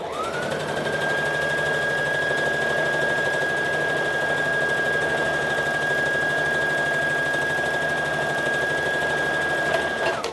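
A sewing machine stitches the hem of a dress in one continuous, even, whirring run with a steady high whine, close and fairly loud for about ten seconds, with no talking.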